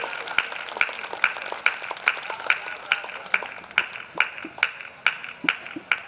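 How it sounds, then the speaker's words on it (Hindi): An audience at a Hindi poetry recital claps in steady unison, sharp beats at an even rhythm over a dense bed of scattered clapping and faint voices. "कविता समाप्त हुई, तालियां बजाओ।"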